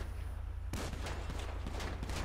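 Gunfire in the video game GTA 5 crackles in a dense, rapid burst of shots that starts abruptly and keeps going under constant background noise at a moderate distance.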